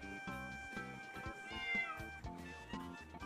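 A cat meowing in the Minecraft video game, several short repeated meows at an even pace against a soft game background, clear and fairly close.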